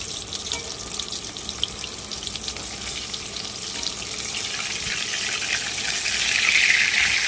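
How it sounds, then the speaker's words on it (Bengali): Fish fry in hot oil in a home kitchen, a steady close sizzle and crackle that grows slightly louder toward the end, with some watery hiss mixed in and no talking. "এগুলো আমি সবগুলো মাছ ভেজে নেব।"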